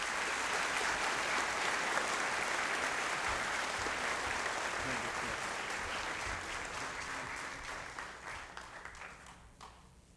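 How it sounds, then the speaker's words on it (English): Audience applause at the 80th J. Edward Kelley Award Program, a sustained wash of many hands clapping at steady strength that gradually thins and fades toward the end. "Let's give them all a round of applause."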